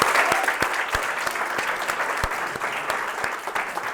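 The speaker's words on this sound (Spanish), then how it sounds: "pido de antemano un aplauso para David" Audience applause at a talk on antisemitism and Middle East conflict, steady and moderately loud, with individual sharp claps standing out from the crowd's even patter.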